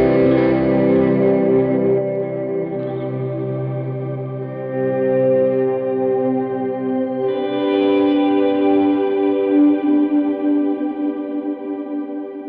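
Electric guitar swells through a DD500 delay pedal preset: soft-attack chords fade in and bloom with delay and reverb trails, layering into a sustained, shimmering wash that keeps ringing for about twelve seconds.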